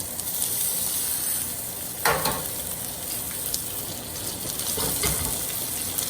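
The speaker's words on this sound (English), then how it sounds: "I'm gonna press it down to get a nice even sear onto the pan." Steak searing in a hot pan, pressed down for an even sear before a butter baste: a steady, loud sizzle runs throughout, with a few louder spits and pops near the middle and end.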